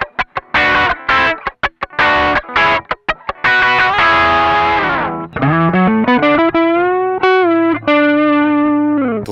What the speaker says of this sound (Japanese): 今335のリアピックアップですが、結構歪みますよね。